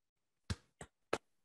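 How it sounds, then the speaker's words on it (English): Three sharp, distinct hand claps sound close and quiet with uneven spacing, followed by a faint fourth tap, with no talk. "I'm clapping."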